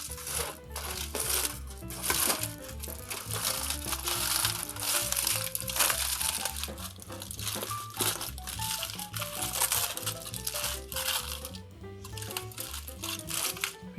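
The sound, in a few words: peeling open wrapped seitan roast fresh from the oven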